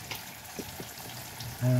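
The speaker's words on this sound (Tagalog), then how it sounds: "At may prito pa tayong galunggong. Ayun, naluluto na" Galunggong fish frying in a pan, a soft steady sizzle and crackle with a few faint pops, followed at the end by a louder steady tone.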